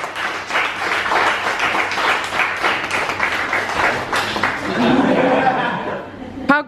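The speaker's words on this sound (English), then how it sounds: "Another cheer is appropriate." Wedding guests cheering and clapping after the blessing, a dense burst of applause with whoops and chatter mixed in, people talking throughout.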